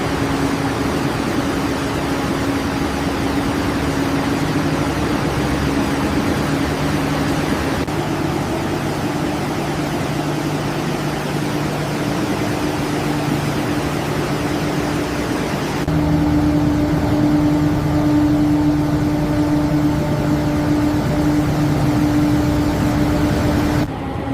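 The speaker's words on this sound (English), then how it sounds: "Fuel ignition begins gradually as combustion pressure builds across the giant marine engine cylinder." A giant marine cargo-ship engine running under test, a loud continuous droning roar with steady low hum tones and a broadband hiss, shifting slightly in pitch partway through.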